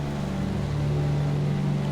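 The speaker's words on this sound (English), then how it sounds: "This is one of the most true-to-life, I think, engine sounds for a default airplane in the sim." The Douglas DC3's piston engines drone in Microsoft Flight Simulator 2020, a steady low hum with a constant rumble and no breaks.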